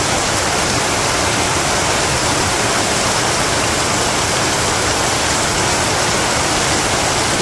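Torrential seasonal rain in a Bangladeshi village makes a constant, powerful roar at close range, an even, rushing downpour that never lets up, with no one speaking.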